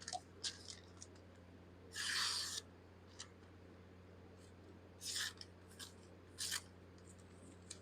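A CJRB XL Pyrite knife slicing through paper gives several short, crisp swishing cuts, each under a second and spaced a few seconds apart, close and clear over near silence.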